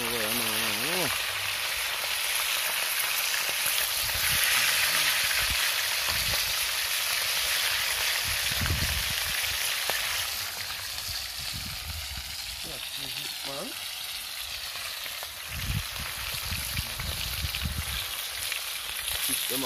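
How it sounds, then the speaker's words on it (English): Fish dry-frying in a pan at an outdoor cookout, a steady broadband sizzle and crackle running throughout, close and fairly loud, with occasional low thumps and bits of speech mixed in. "Them are frying nice."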